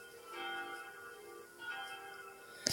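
Church bell at Saint-Pierre church, tones ringing with long humming harmonics; two soft strikes swell and decay, faint and somewhat distant, ending in a brief sharp knock.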